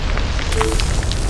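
A grenade blast in the online shooter Ghost Recon Online rumbles loud and dense, a short rolling boom with crackling debris throughout.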